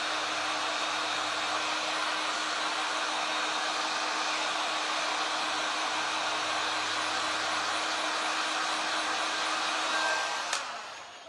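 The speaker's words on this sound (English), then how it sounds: "I am going to hit just a little bit with the heat gun" Heat gun drying paint on a craft piece: a loud, steady blowing hum with a constant fan whine that holds unchanged for about ten seconds, then a small click as it is switched off.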